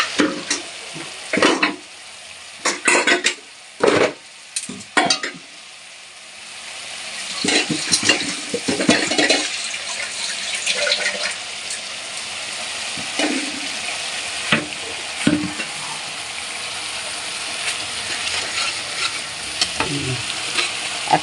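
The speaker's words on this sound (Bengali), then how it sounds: "ধনের পাতাটা এই যে ভালো করে কষা হচ্ছে। এটা যখনই তেল বেরিয়ে আসবে" Coriander leaves and spices fry in hot oil while a spoon scrapes and stirs the pan, a steady loud sizzle running throughout with irregular clatters of stirring, no talk.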